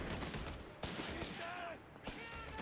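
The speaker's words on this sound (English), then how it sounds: "Here comes the heavy machine gun though." A heavy machine gun fires in the Company of Heroes 3 strategy game, rapid dense bursts and shots crackling amid battle noise, loud and cluttered with brief gaps.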